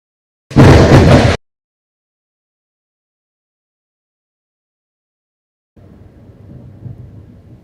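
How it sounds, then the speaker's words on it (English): A loud, abrupt burst of rumbling thunder lasts under a second, followed by several seconds of silence and then a faint, low, rolling rumble in the distance. "Excuse the thunder."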